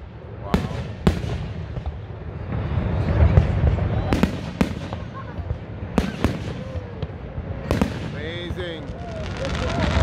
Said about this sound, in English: There is a fireworks tonight.